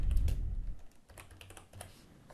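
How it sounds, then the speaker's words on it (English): Typing on a computer keyboard, a short run of quick, light key clicks close by, with a soft thump at the start and quiet gaps between taps. "And to confirm it, just type in"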